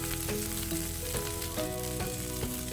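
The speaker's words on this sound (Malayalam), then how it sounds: "പാൻ എടുത്ത് ചൂടാക്കി എണ്ണ ചൂടാക്കിയതിന് ശേഷം അതിലേക്ക് കറിവേപ്പില നിരത്തി വയ്ക്കുക" Curry leaves sizzle in hot oil in a frying pan, giving a steady, dense crackle with small pops that runs the whole time and stays close and fairly loud.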